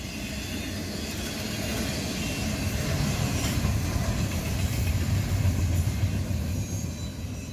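Diesel-hauled eastbound Intermodal 20K freight train with the Lackawanna Heritage Unit in New Jersey, a steady rumbling roll of wheels and engine building slightly as it passes, moderately distant, with no voices.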